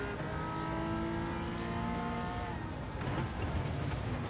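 Race car in Gran Turismo 7 on PS5 accelerating at full throttle, its engine tone rising steadily through the gears, loud and continuous, with a short burst of tyre or surface noise late on.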